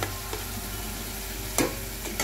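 Masala for a pabda fish curry fries in oil that has separated, producing a dense, even sizzle up close, punctuated by two quick spatula scrapes toward the end, with no talking.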